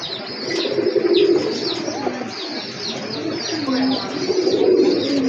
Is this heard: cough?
no